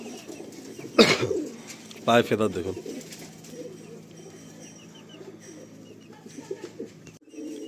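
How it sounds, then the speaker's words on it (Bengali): Madrasi Fulsira pigeons with blue bars and long beaks coo in low repeated bursts, close and fairly loud, while someone talks over them and other birds chirp faintly in the background. "বাহ কত সুন্দর সুন্দর ফুলসিরা পায়রা, ব্লু পট্টির মধ্যে একদম সুন্দর লম্বা ঠোঁট নিয়ে"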